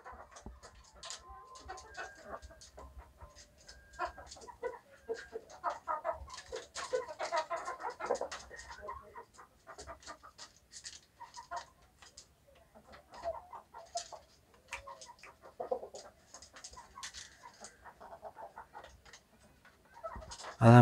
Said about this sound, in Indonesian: ayam samu Jepang.